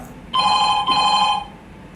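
A telephone rings loudly and close, two electronic ring bursts in quick succession before stopping.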